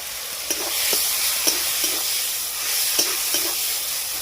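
Ginger-garlic paste and chopped tomato frying in a pan give a loud, steady hissing sizzle, with several light spoon knocks and stirs scattered through it, close and with no voices.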